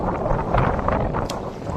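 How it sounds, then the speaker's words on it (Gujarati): Strong wind and rough waves at sea during a fishing trip, a steady broadband rush of wind buffeting the microphone with surging water beneath, loud and continuous without speech. "મોજો ને હવા ફૂલ છે"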